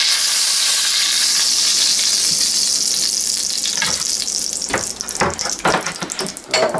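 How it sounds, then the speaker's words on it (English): Lamb shanks brown in a hot pan with a loud, steady sizzle and hiss, followed by a series of clanks and scraping knocks as the meat is turned and handled. "Brown them off nicely."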